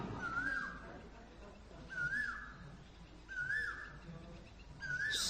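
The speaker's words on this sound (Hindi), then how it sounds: "सुनो उस कोयल को।" A koel calls four times with rising, whistled notes at regular intervals, moderately distant over a steady background hum.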